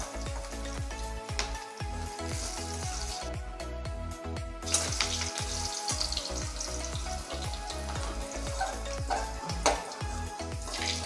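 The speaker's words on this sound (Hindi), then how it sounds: "आलू को भी अच्छी तरह से फ्राई कर लेना है" Potato pieces fry in hot oil for a chicken dum biryani, a dense, constant crackling sizzle that fills the whole stretch, close and loud, with a rhythmic low thudding underneath and occasional stirring scrapes, no voices.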